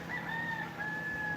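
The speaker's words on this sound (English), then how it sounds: "I see there's a rooster down there in the street" A rooster crows out on a street or in nearby bushes, one long, steady call held under a constant hum of outdoor background noise.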